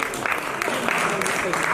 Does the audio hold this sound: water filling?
no